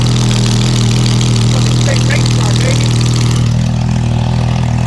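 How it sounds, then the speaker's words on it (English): A Porsche GT3 engine with an aftermarket exhaust and stage 2 tune idles loudly and steadily, its deep, throaty low rumble constant throughout with a slight uneven burble, close to the listener. "This thing rips, man. Listen to this idle."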